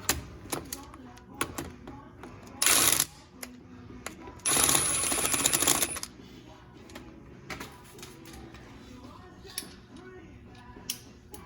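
A bolt is tightened on a 2004-2019 Ford F-150 rear axle with scattered ratcheting clicks and two short, harsh mechanical bursts, close and moderately loud.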